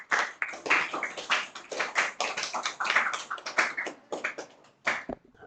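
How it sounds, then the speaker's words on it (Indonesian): Students in a classroom clapping for a presentation, a small group's bursts of close, sharp hand claps in uneven clusters, pausing briefly before a final few claps. "Tepuk tangan dulu."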